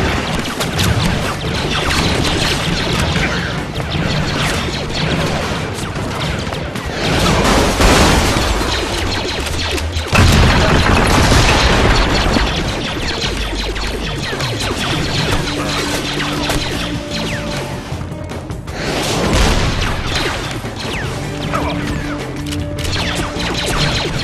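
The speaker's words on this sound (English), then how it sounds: "Use your explosive grenades to blow that generator." Grenade explosions blowing up a generator in Star Wars: Republic Heroes, loud booming blasts that burst out of a dense, continuous wash of combat noise several times.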